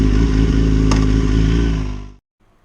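A loud motorcycle engine roars close by and holds steady for about two seconds, then cuts off abruptly into near silence.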